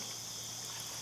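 Creek water flows at the bottom of a wooded ridge with a soft, even, continuous trickle, faint and steady with no voices.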